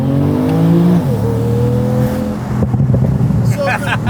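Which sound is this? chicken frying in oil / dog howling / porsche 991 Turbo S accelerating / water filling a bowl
porsche 991 Turbo S accelerating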